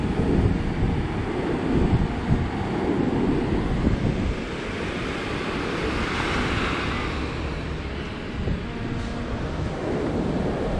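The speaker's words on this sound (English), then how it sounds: "the waves are heavier than we'd like" Heavy ocean surf rolling onto an Outer Banks beach during rough weather with a hurricane offshore, a continuous roar of breaking waves mixed with gusty wind buffeting the microphone.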